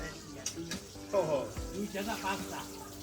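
Onions frying in a pan on a clay stove, with a soft, steady sizzle and a few stirring scrapes running under a person talking throughout.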